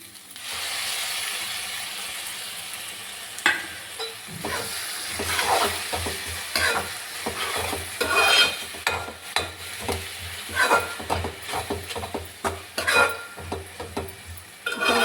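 Tomato paste cooking and being stirred in a pan for a ridge gourd and egg curry, with a steady sizzle and repeated scraping and clinking of a spoon against the pan, close and alone without voices.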